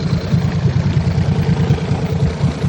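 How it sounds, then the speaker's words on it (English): A 1999 Evinrude Suzuki four-stroke outboard motor runs close by at a steady idle, with an even low thrumming pulse and light mechanical clatter throughout. "Motor's running."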